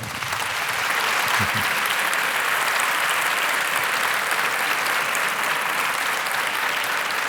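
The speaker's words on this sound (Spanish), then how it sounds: "Aldo Linares, un aplauso para él" Audience applause at a congress talk greets speaker Aldo Linares, a dense, steady wash of clapping from a large crowd that holds evenly for several seconds.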